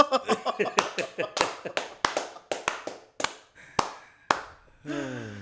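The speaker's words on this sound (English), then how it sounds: "Everybody standing, give him an applause" A standing audience claps for a guest on a live talk show, sharp slapping claps that come fast at first and then thin into slower, separate strikes, followed by a brief burst of voices.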